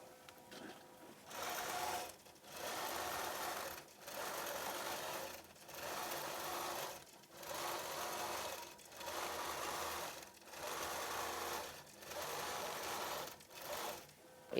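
A sewing machine quilting an antique chain quilt runs in repeated bursts of steady whirring stitching, about eight runs separated by short pauses, close and fairly quiet.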